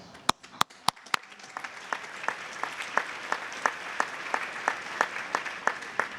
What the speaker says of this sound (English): They deserve special recognition and applause.